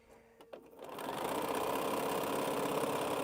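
A sewing machine stitching quilt blocks together starts up after a quiet second and then runs steadily at a fast, even pace, close and continuous.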